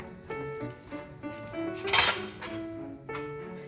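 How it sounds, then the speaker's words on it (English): Milk simmering in a pot for tapioca pudding is stirred with a utensil, giving soft scraping and light metallic clinks, then a lid is set down with one brighter clang. The sounds are close and moderately quiet. "Close the lid and watch until it comes to a boil."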